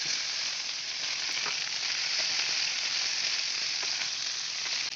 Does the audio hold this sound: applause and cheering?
no